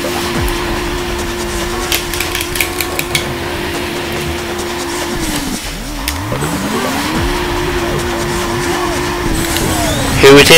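A high-revving supercar engine in Burnout 2: Point of Impact climbs and drops through gear changes, loud and continuous, with tire and road noise underneath.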